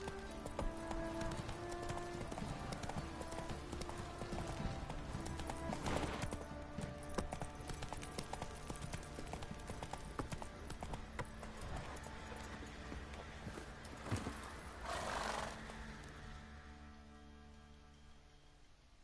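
Hoofbeats of Geralt's horse Roach galloping in The Witcher 3, a steady clip-clop rhythm running throughout beneath game music and ambience, with a brief whinny possible and no speech.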